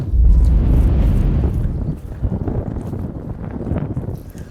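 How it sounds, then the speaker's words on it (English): Wind blows over the St. Lawrence River, a loud low rumble buffeting the microphone that eases slightly midway and continues in uneven gusts, with no speech. "It's a whole lot easier in this wind."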